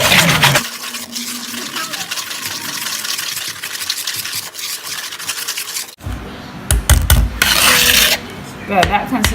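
Cookie batter with nutmeg whisked in a bowl, a close, continuous scraping and rubbing of the whisk against the sides, with a brief break before rougher, louder strokes resume.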